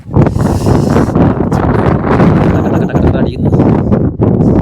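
Cold wind on Karthala mountain buffets the microphone in loud, continuous rumbling gusts, close and overwhelming, with no clear break.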